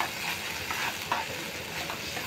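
Spice masala with salt and chilli being stirred as it fries for tomato pickle, a steady close sizzle with soft scraping strokes of a spatula throughout.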